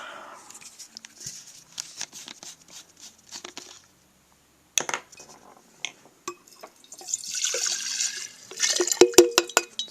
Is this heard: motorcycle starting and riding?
no